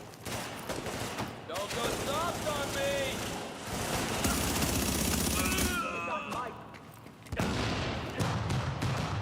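Sniper shots and gunfire in The Division 2 crack out in scattered bursts and sharp reports, some close and loud, against game ambience, with a voice speaking at times.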